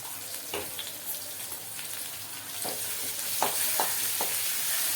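Chicken tempered with ginger-garlic paste and turmeric in a hot pan sizzles and fries steadily, with crackling pops and a few sharper spits as it is stirred.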